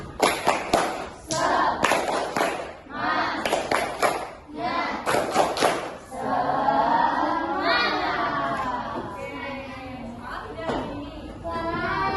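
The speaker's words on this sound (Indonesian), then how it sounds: "Tepuk semangat." A classroom of children performing a spirit clap chant during a microteaching lesson, loud rhythmic bursts of clapping in quick patterns, followed by the group shouting and chanting together.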